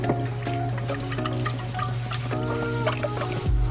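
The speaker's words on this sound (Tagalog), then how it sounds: "Paglagay ng tubig." Water pours steadily into a cooking pot on a stove, a continuous splashing trickle under a low background hum, ending with a brief clunk.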